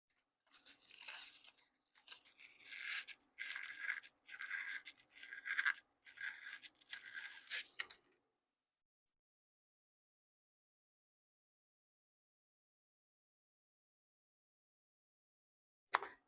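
Close scraping and rasping of 400 grit sandpaper worked over the glued wooden body of a guitar, coming in quick, uneven strokes for about eight seconds, then silence apart from one brief tap at the very end.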